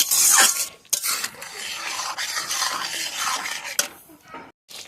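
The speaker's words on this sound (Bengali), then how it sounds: "গরম মশলা দিয়ে তারপর নাড়াচাড়া করে আর 2-1 সেকেন্ডে রাখবো।" A spoon scrapes and stirs egg curry in a metal pan after garam masala goes in, with repeated rough scraping strokes and clinks, close and fairly loud, tapering off near the end.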